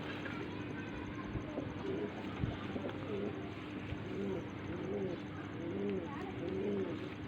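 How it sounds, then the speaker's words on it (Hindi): A pet pigeon coos in repeated soft, rolling phrases, each a low warble, rising more clearly in the second half over a steady background hum, close by and with no speech. "बहुत ही अच्छा कबूतर है ये।"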